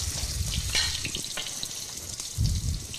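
Sesame-crusted albacore tuna sears in a hot pan, giving a steady close sizzle with soft hiss and a few low thumps of movement near the end; no one speaks.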